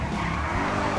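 A BMW drifting in GTA 5 gives a loud, continuous screech of squealing tires over the engine roar, close and unbroken, with no talk.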